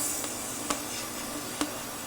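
Short hissing bursts of Denko brake parts cleaner sprayed into the sway bar tube of a 2003 Polaris Sportsman 700 ATV, three brief spritzes spaced apart, close and moderately loud.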